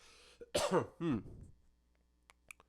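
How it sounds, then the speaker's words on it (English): Two rough, harsh coughs in quick succession, close and loud, followed by a few faint clicks in near silence. "I'm gonna cough."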